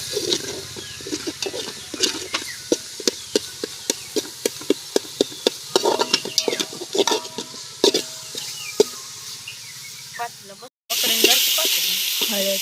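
Vegetable curry frying in a pan, a bed of sizzling under repeated sharp clinks and scrapes of a spoon against the pan, followed by a sudden louder stretch of hissing near the end.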